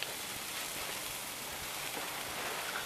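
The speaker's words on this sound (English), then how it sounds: "Hear the sizzle" Ribeye steaks sizzle steadily over a fire pit, a constant crackling hiss with tiny pops, fairly close and alone.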